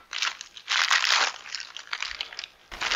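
Plastic packaging of an American MRE being sliced and pulled open, loud close crinkling and crunching in bursts with a short pause before a final rustle.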